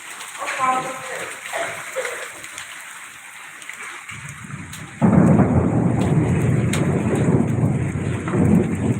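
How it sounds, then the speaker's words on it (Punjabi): Faint talk drifts over quiet outdoor noise, then a sudden loud rumble of thunder from a heavy storm with hail breaks in and rolls on with rain-like hiss underneath. "ਦੇਖੋ ਕਿਵੇਂ ਬੱਦਲ ਲਸ਼ਕ ਰਹੇ ਆ ਗਰਜ ਰਹੇ ਆ"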